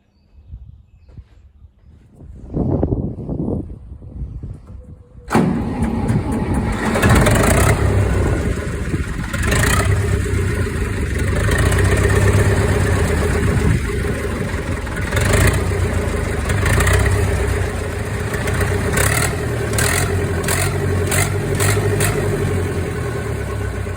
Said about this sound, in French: Le tracteur démarre